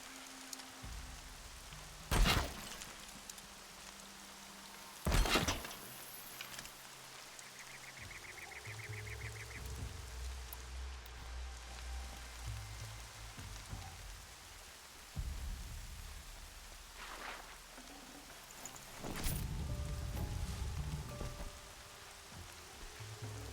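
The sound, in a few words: rain in the video game Horizon Zero Dawn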